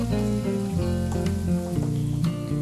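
Crushed garlic and ginger sizzle and crackle steadily in hot oil while being stirred for Kerala-style meen pollichathu, with a constant close frying hiss and a few scraping stir sounds.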